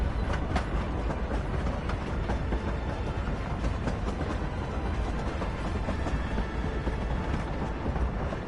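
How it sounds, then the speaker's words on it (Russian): The Hogwarts Express steam train rumbles past in the video game Hogwarts Legacy, a steady, dense roar of rolling wheels and rail clatter that stays loud throughout with no talking. "There's the Hogwarts Express."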